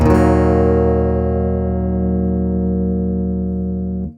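A sustained, ringing acoustic-electric guitar tone through a Boss EQ-200 pedal, with a strong resonant overtone humming steadily for about four seconds before cutting off abruptly.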